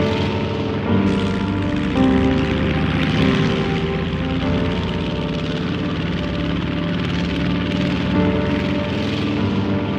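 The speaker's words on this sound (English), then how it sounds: "five squadrons of Hurricanes and Spitfires rose from the runways and took to the skies" WWII Hurricane and Spitfire fighter planes in flight give a continuous loud, droning roar of piston engines and propellers, thick and steady throughout, with slight swells as the aircraft pass.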